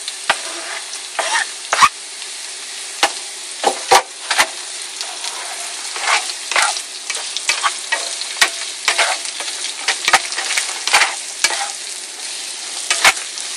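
Onion frying in a pan for paella: a steady close sizzle runs throughout, broken by frequent sharp scrapes and clicks of a utensil stirring, with no talk.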